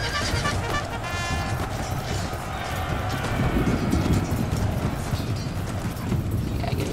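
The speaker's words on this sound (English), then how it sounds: "getting trampled by a horse is not pleasant" Horses galloping in the battle game Empire: Total War produce a dense, continuous rumble of many hooves, with clattering and faint battle noise throughout. A voice talks over part of it.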